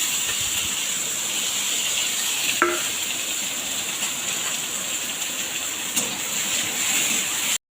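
Chopped ingredients fry in a little hot oil in a wok for a greens dish, a steady hissing sizzle with a couple of faint clinks of the utensil, close by and without speech.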